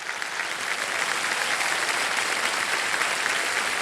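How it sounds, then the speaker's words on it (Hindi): Loud, sustained applause from a TV game show studio audience on Kaun Banega Crorepati, steady clapping filling the whole stretch without pause. "एक बार जोरदार तालियां बज जाए इनके लिए।"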